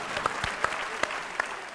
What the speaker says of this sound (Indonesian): Tepuk tangan dulu semua, tepuk tangan.